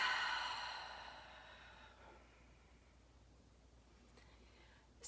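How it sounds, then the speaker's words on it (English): A long slow exhale during box breathing pranayama, a soft airy sigh that fades out over about two seconds into near silence, close and gentle with no words. "And just exhale."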